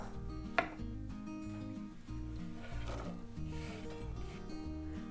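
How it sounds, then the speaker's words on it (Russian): Knife chopping sausage into small cubes on a board, a sharp first cut followed by quieter, steady tapping strokes under faint background music. "Колбасу нарезаю мелким кубиком."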